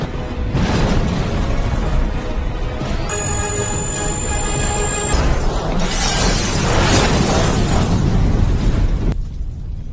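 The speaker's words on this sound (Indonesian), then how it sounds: "gelang pun meledak, mengakhiri Johnson dan rencananya" A bomb bracelet detonating in a film scene: a sustained roaring blast with crackling debris and bursts across ten seconds, a high whine cutting through midway, then cutting off abruptly near the end.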